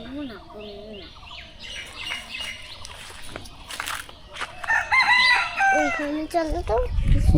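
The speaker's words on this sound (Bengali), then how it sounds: "মুরগি কি কয়" A rooster crows and chickens cluck at a rural home, the calls rising and falling over several seconds with faint voices in the background.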